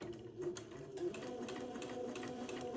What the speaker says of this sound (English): I'm staying really close to the fold without accidentally sewing off of it